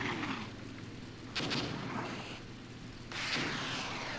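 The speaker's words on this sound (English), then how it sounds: "Come on, get those rockets off." Rocket launches and explosions from the Armored Brigade war game, with two loud bursts of whooshing fire and rumbling blasts over a continuous low battlefield drone.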